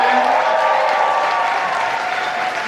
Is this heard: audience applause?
yes